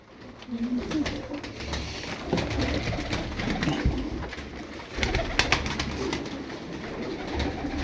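Turkish tumbler pigeons coo near the microphone, overlapping low throaty calls repeating throughout amid soft flapping and shuffling, with no talk.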